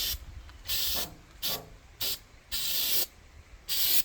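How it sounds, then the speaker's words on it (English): Hercules do-it-yourself truck bed liner sprayed outdoors onto cattle panels in wind, heard as five loud hissing bursts of about half a second to a second each, separated by short quiet gaps. "I use Hercules bed liner. It's a do-it-yourselfer bed liner that you spray in the back of trucks and stuff."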